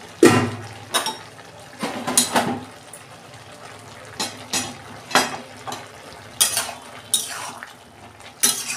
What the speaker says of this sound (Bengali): দেখুন বন্ধুরা, আমি ঢাকা খুলে দিচ্ছি।